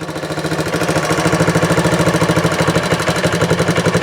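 A 1964 Honda CT90 motorcycle engine idles steadily up close, with a fast, even chugging pulse and a rattly, lawnmower-like putter from the exhaust that holds throughout.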